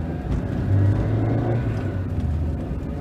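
Engine and gearbox of a 1979 Mitsubishi Colt (Mirage) 1400 GLX with an 8-speed gearbox, heard from inside as a steady low rumble and whir that swells briefly, continuous with no talk.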